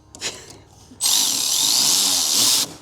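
A short whirring burst of a ratchet tightening a bolt for under two seconds, after a couple of brief clicks, while installing a side marker on an S650 Mustang.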